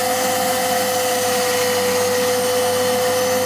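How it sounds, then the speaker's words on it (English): A vacuum cleaner runs steadily inside the interior of a 20-year-old Subaru Impreza, a loud continuous motor whine with a strong steady tone and airy rush, close up and without talk. "We've got the vacuum out now."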